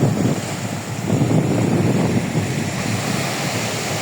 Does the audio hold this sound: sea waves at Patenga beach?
yes